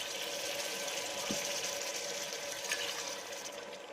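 Meat broth pours steadily into a pot of onion and noodle soup base, a continuous close watery rush from start to finish without any talking.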